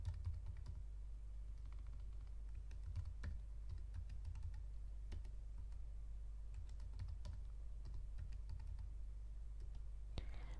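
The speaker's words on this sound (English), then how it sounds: "now password, we're going to type in the password" A password being typed on a computer keyboard during a WordPress install on a Lion Mac, with soft, steady key clicks over a constant low hum, fairly faint.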